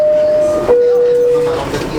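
A New York R62 subway car on the 3 line rides along with a steady rumbling drone and long sustained tones, while a recorded voice announces over it.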